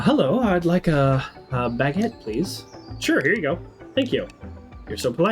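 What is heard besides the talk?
No distinct noise like a dog, phone or traffic.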